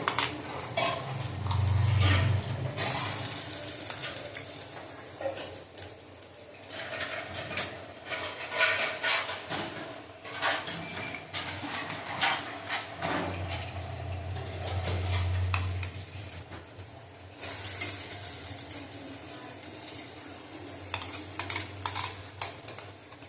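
A utensil stirs lau and prawn-head bata in a pan, repeated scraping strokes at close range over a low, steady sizzle, with occasional clinks of metal and no talk.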